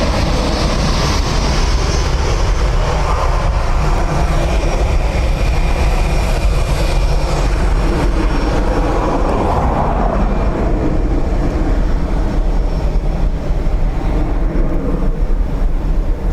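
A Gulfstream business jet at Dublin Airport gives off a loud, steady engine roar that holds constant throughout, with no voices.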